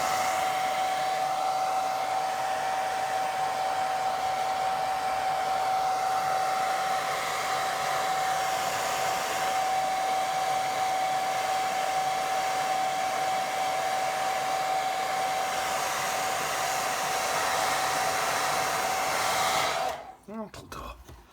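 A hair dryer blows steadily on wet watercolour paint, a loud continuous whooshing roar with a constant tonal whine, running alone for about twenty seconds before switching off with a brief rattle.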